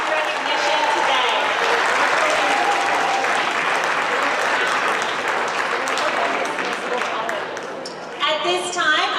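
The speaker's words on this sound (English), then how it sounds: "Let's give one more round of applause to everyone who received recognition today." Audience at a sixth-grade end-of-year school award ceremony applauding award recipients, a dense sustained round of clapping from a crowd that tapers off near the end as a voice begins speaking.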